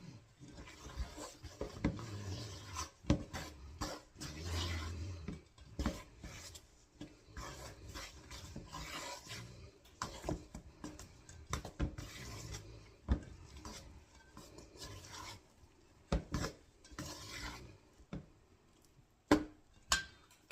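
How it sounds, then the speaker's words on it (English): A spoon stirs a thick, sticky chicken and dumplings mixture in a pot, giving quiet, irregular scraping and scuffing strokes with occasional sharper clinks against the metal, close by. "Alright, I'll stir that in."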